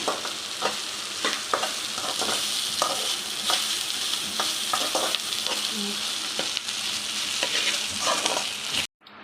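Okra (bhindi) frying in a pan with a steady sizzle, broken by repeated scraping stirs of a spatula at irregular intervals. The sound stays close and continuous with no talk, then cuts out abruptly at the very end.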